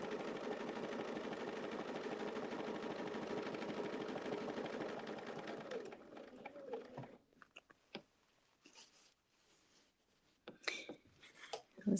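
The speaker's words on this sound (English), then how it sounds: "And then I'm going to stitch." A sewing machine hums in a fast continuous run while stitching a quilt, fairly quiet, for about six seconds before stopping, leaving faint handling clicks and rustles afterward.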